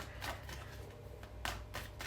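Tarot cards are shuffled close up in a few quick, papery riffling bursts with short pauses between them, and nobody speaks.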